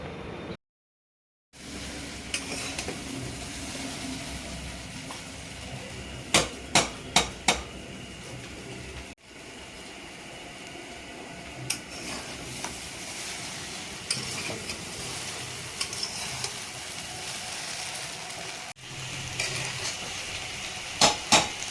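Chow mein noodles with egg bhujia, prawns and mixed vegetables being stir-fried in a pan, with a steady close sizzle and bursts of metal spatula scraping and clanking against the pan throughout.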